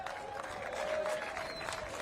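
Crowd applause for two men's singles pickleball gold medal finalists at the Punta Gorda Open, a steady broad wash of clapping filling the whole moment without letup.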